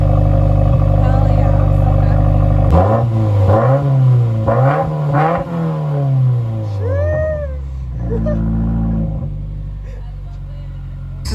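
Engine of a 2015-or-later Subaru WRX fitted with a Remark Boso axleback exhaust, revving in several rising and falling pulls up close and loud, with short cat-like squeaks partway through and a steady idle drone afterward.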